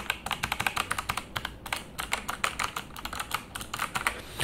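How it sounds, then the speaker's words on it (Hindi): Rapid typing on a TVS Gold Pro mechanical keyboard, a dense stream of sharp, close key clicks in uneven bursts with brief pauses, fairly quiet and heard alone without talk. "अगर इसकी आवाज़ अब मैं आपको सुनाऊँ कैसी है इनके कीज़ की"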